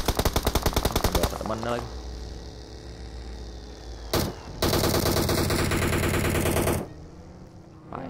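Automatic rifle fire in a mobile battle-royale shooter, with a rapid burst of shots, a single crack, then a long sustained volley of loud, close gunfire, while someone talks excitedly in between.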